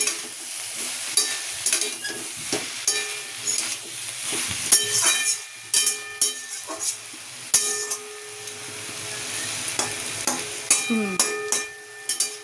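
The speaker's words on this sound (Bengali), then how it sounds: "চলো সবজিটা একটু নাড়াঝাড়া করে দিই" Vegetables are stirred in a sizzling frying pan for a rohu fish chorchori, the spatula scraping and clinking in bursts over a continuous close fry.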